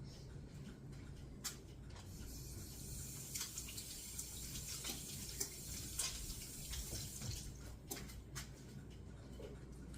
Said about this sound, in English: excuse me while I go wash my hands